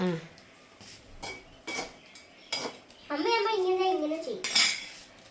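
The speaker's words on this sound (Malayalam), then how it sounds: "ഞാൻ സവോള വാട്ടിയെടുക്കാൻ പോവാം അത് ഇടയ്ക്ക് ഇളക്കി കൊടുക്കണം" Onions being stirred in a pan while cooking crab curry, with several sharp metallic scrapes and clinks of a utensil against the pan at irregular intervals, close up, and a person's voice speaking partway through.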